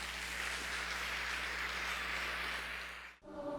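Church congregation applauding in praise, a dense steady wash of clapping that carries on evenly before cutting off abruptly near the end.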